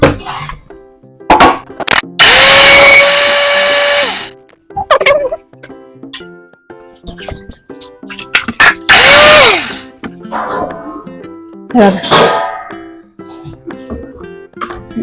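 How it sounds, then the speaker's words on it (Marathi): A kitchen mixer grinder grinds soaked rice in two loud whining bursts of about two seconds each, separated by quieter clinks and handling noises, with brief speech in between. "तांदूळ भिजले तर मी मिक्सर मध्ये बारीक करून घेते"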